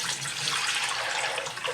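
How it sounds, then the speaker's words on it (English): Liquid rendered bear fat poured from one pot into another, a steady close splashing pour running continuously at fairly loud level with no speech. "I'm actually going to pour that in another pot because this one has a lip on and it'll be easier to pour into my jar"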